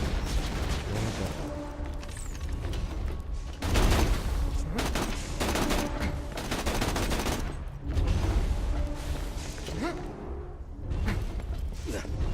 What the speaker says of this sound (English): I should start firing more explosives